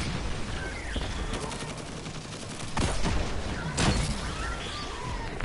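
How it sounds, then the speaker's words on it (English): Explosions and gunfire crackle in a Destiny 2 multiplayer match, a dense rattle of shots punctuated by two sharper bursts around the middle, fairly faint and without speech. "Throwing nades and hate."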